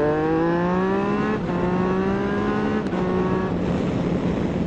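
Yamaha Tracer 900 motorcycle with an aftermarket exhaust revving and accelerating as heard from aboard, a loud steady engine note rising through the gears with brief dips at each shift, alone without talk.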